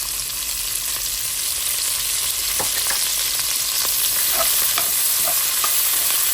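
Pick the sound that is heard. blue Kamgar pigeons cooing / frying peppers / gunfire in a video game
frying peppers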